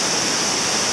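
A powerful waterfall roars with rushing water, a dense, loud and unbroken hiss heard up close.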